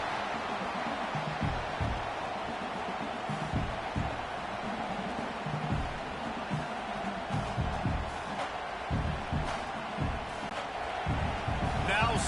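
Loud college football stadium crowd noise rumbles continuously, with cheering swells and scattered thumps, while a commentator talks over it during a first-and-goal play.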